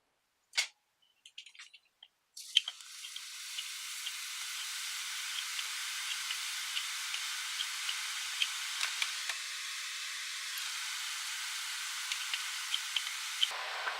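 Ribbon pakoda dough dropped into hot oil, a sharp splash and then a steady, continuous sizzling hiss that holds until the end.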